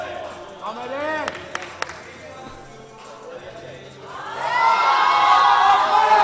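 Crowd at a weightlifting championship cheering for a lifter, with scattered shouts and claps building into a loud swell of whooping voices near the end, over a few sharp clanks.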